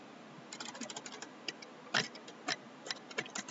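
Typing on a computer keyboard, a close, quiet run of quick key clicks in uneven bursts with a few heavier presses, alone without talk.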